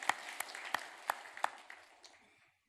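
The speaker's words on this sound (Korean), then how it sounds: "우리 큰 박수로 다시 한번 우리 하나님 앞에 영광을 돌리겠습니다." Scattered congregation applause at a church Sunday service, a handful of distinct claps standing out over a faint patter that thins and fades out within a few seconds.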